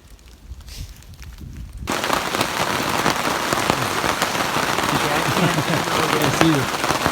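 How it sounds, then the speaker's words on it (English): Heavy rain on a mountaintop during a thunderstorm, starting faint and then swelling within two seconds into a loud, dense, steady downpour that continues to the end, close by, with no clear thunder standing out. "It's raining pretty hard."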